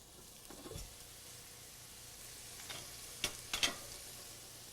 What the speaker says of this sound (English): Let that onion saute a minute.